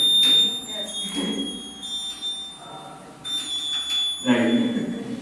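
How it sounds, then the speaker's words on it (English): A quiz buzzer, a switch wired to a bulb at a school inter-house competition, sounds as a steady electronic tone under a presenter's talk in a hall, with a sharper burst near the end. "That's the buzzer. You can just try it on once."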